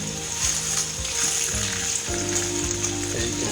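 Sirloin steaks sear in hot oil in a pan, giving a loud, steady, close sizzle that carries on unbroken over a faint low hum, with no voices.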